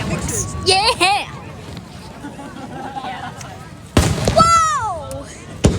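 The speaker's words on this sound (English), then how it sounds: "check out those fireworks" Fireworks burst in a crowd setting, with whistling rockets climbing and bangs ringing out in two loud clusters, while people cheer and chatter excitedly throughout.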